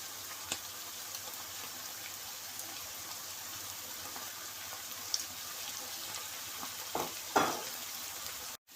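Spices frying in a pan for mutton keema with yogurt, a faint, even sizzle throughout, then a couple of clinks and scrapes near the end, with no voices.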